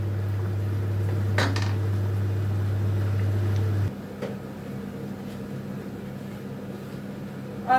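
Homemade menemen with onions and peppers being stirred in a metal pot, a few clinks and scrapes of a utensil against the pot over a steady stove hum that cuts off midway, leaving a quieter background.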